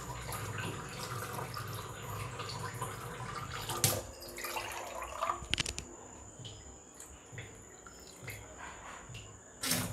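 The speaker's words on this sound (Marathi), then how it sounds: "आता उरलेलं पाणी आपण त्याच्यात टाकूया" Water poured into a pressure cooker of vegetable biryani, heard as a steady splashing pour with a few dripping and clinking sounds, fairly quiet and close.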